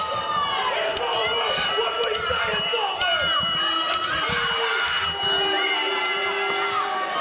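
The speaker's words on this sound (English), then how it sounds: "Ring the bell." A wrestling ring bell clangs repeatedly, about once a second, bright metallic strikes cutting through a noisy crowd during a chaotic match.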